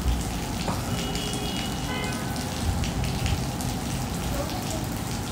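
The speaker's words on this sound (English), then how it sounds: "there's like a little tiny bit of rain left" Rain falls on a hard surface in a dense, loud, continuous patter, crisp drops spattering close by, with occasional faint voices in the background.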